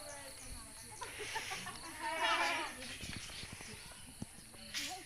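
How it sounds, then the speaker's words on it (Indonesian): A sacrificial goat for Eid al-Adha gives a short bleat amid a gathering of people talking, with scattered livestock noises nearby. "tuh hewan kurbannya kambing"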